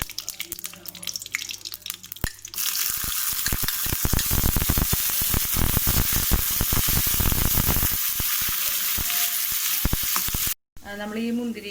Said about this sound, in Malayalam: നെയ്യൊന്ന് മെൽറ്റായി വരുമ്പോൾ നമുക്കതിലേക്ക് ഉണക്കമുന്തിരി ഇട്ട് നല്ലോണം ഫ്രൈ ചെയ്ത്